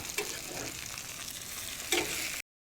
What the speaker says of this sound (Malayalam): അപ്പോൾ മീൻ ഫ്രൈ ആയിട്ടുണ്ട്. ഓരോന്നായിട്ട് ഇങ്ങനെ എടുത്ത് കോരാം.